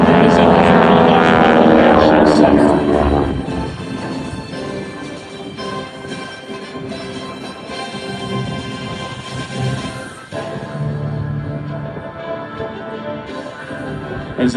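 Airshow display team aircraft flying in tight formation, their engines a loud continuous drone that is strongest at first, then settles to a steady, slightly quieter roar as they circle around.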